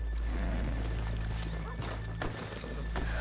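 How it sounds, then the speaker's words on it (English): Horses in Red Dead Redemption 2 clip-clop and whinny beside a town's main street, hoofbeats blending into a dense, steady bed of game ambience with a few sharper knocks. "let's leave the horses here off the main drag"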